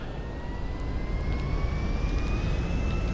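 Airplane engine in GTA Online on Xbox One, a steady jet roar with a slowly rising whine, holding level and loud for the whole stretch with no talk over it.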